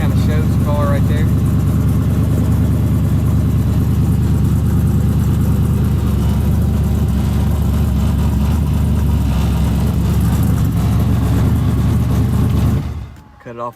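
A twin turbo LS-powered Chevy II Nova making 850 horsepower on pump gas runs at a loud, steady, close idle, then shuts off abruptly near the end, leaving near silence.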